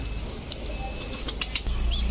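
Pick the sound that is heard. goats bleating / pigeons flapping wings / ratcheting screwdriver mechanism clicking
pigeons flapping wings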